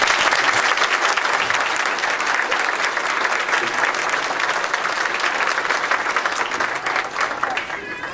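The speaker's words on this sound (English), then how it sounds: "Please recognize this group with a round of applause." An audience at a college honor society induction ceremony breaks into sustained, dense applause, loud and even throughout with many hands clapping together.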